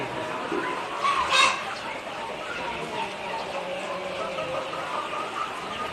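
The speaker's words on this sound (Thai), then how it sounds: "เรามาฟาร์มไก่กันนะคะ" Chickens cluck softly at a chicken farm, a faint, busy murmur of fowl in the background with one brief, louder squawk near the start.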